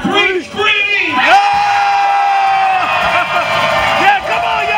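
A festival crowd at a live music show screams and whoops together in a loud, dense burst of massed voices, answering a performer's call to scream.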